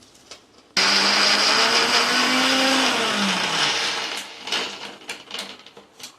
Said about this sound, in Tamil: பிரியாணி மசாலா தனியா அரைச்சி வச்சுக்குவோம்.